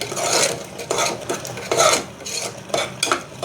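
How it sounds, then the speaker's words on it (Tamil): Masala chundal being stirred with panipuri masala in a pan, steady scraping and rubbing strokes in a repeating rhythm, close and moderately loud, no talk. "இதெல்லாம் நல்லா கிண்டி விட்டுக்கலாம்"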